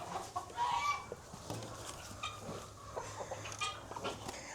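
Farm chickens cluck and murmur close by during a morning feeding, with soft, scattered calls over a low background hum and a faint rustle of movement.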